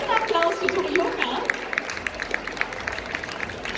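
Audience at a Gamescom concert clapping and cheering, a loud burst of applause and crowd noise that thins into scattered claps and chatter, with voices in the crowd.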